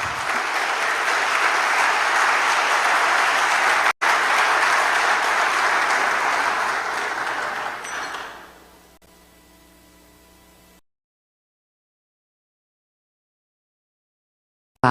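Large conference audience at a global forum on artificial intelligence applauds a humanoid robot, with a dense, loud, even roar of clapping sustained for about eight seconds, then dying away into quiet.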